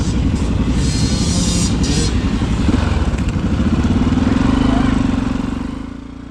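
Motorcycle engine revving and rumbling steadily at an Open Roads Rally event in Myrtleford, as a rider loops around barrels in a timed barrel race, loud and close, with pitch rising and easing through the turns and brief voices underneath.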